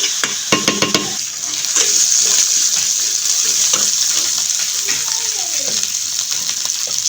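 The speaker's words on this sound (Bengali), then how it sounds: "একটু ধনের গুঁড়া একটু হলুদের গুঁড়া দিয়ে আমি মশলাটা এভাবে ভালো করে কষিয়ে নেব" Coriander and turmeric powder spices frying in a pan for a puti fish curry, a continuous close sizzle with scraping stirs and some brief clatters at the start.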